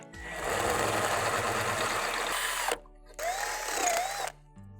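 Power drill widening mounting holes in metal on a CAT 299D loader, two close whining bursts with pitch sagging under load, separated by a short pause, with no talk.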